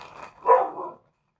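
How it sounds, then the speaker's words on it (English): A single dog bark bursts out mid-clip, moderately loud and close, followed by a shorter trailing yelp before the sound cuts to silence. "my dog is barking"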